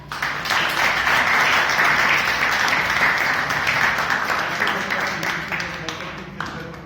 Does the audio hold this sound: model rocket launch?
no